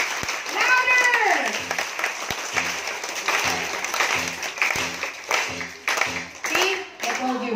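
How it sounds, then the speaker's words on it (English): A sea lion show audience at Ocean Adventure, Subic Bay, claps loudly and continuously at the trainer's urging, a dense crowd of hands with a performer's voice calling out over it and occasional whistles. "everybody clap your hands. Louder!"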